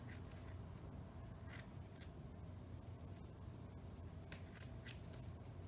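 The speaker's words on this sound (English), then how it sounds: "And then just cut off the last little bit here and throw that." Scissors snipping strips of tulle for a dog tutu, making a few faint, quick cuts scattered over a low, steady background hum with no speech.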